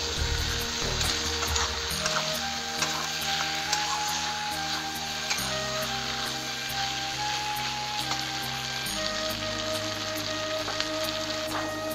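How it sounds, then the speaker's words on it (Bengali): Chicken pieces with potatoes and tomatoes sautéing in a pan for Bengali chicken kosha, a steady loud sizzle with bright crackle running the whole time, mixed with sustained tonal background music. "আর এই আলু আর টমাটার ভালো করে কষাই নেব।"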